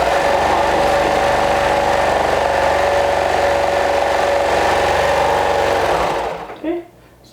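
Sewing machine stitching skirt pieces for a rainbow dress, a steady fast whirring hum close by that runs for several seconds, then slows and stops with a brief clunk.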